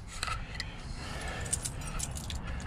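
Keys jangle in a pocket while someone searches for them beside a Ford F750XL crew cab truck with a Cummins diesel, light metallic clinks rustling steadily over low background rumble, no speech.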